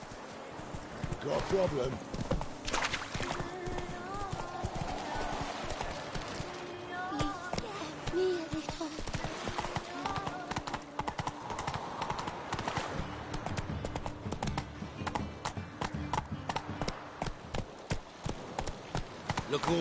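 Hooves of Roach, Geralt's horse in The Witcher 3: Wild Hunt, clopping in a steady trotting rhythm beneath game dialogue and talking voices.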